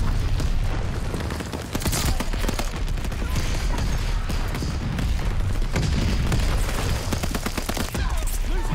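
Grenade blast amid sustained heavy gunfire in Call of Duty: Vanguard on the Shipment map, a loud continuous wall of booms and rapid shots filling the whole stretch without pause.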